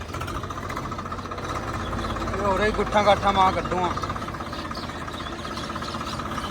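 A tractor engine chugs steadily while testing a cultivator in a dusty field, briefly revving louder in the middle, while someone speaks over the running motor.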